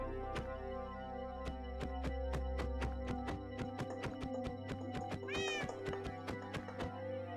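A Minecraft cat meows in a rapid string of short repeated calls over a constant game background hum, one longer rising meow standing out near the end, with no talking.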